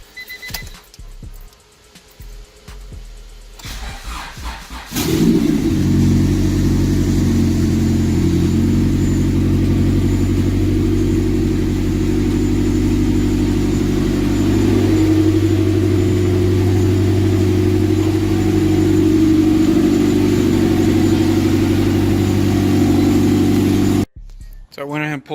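A 1995 Acura Integra LS with a turbo idles steadily at close range, a low continuous rumble with a constant hum, starting after a few seconds of quieter handling noise.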